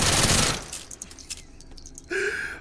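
Suppressed 25 ACP rifle with a very high cyclic rate, fired in the H3VR game: a loud rapid burst at the start, then scattered light clinks and pops, and a tonal ring near the end.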